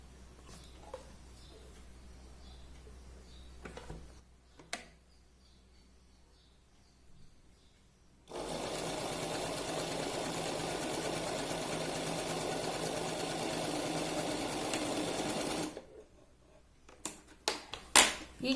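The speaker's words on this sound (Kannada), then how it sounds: "ಈ ಕಡೆಗೂ ಕೂಡ 2 ಸೈಡು ಕೂಡ ಡಬಲ್ ಫೋಲ್ಡ್ ಮಾಡಿಕೊಂಡು ಸ್ಟಿಚ್ ಮಾಡ್ಕೊಳ್ಳೋಣ." A sewing machine stitches along a double-folded fabric waist belt, its steady whirring run lasting several seconds loud and close, with quiet handling before and a few short clicks after.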